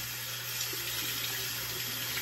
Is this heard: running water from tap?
yes